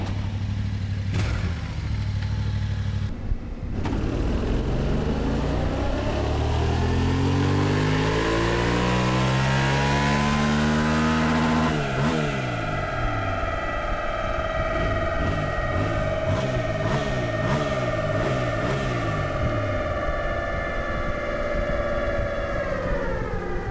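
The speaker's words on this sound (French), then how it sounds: "On entend le petit 700 cm3, mais c'est discret, hein." A Yamaha Tenere 700 World Raid motorcycle revs hard on a dyno for about twenty seconds, with its pitch climbing and falling in repeated sweeps. Knobby tyres whine loudly alongside the engine, and no voices are heard.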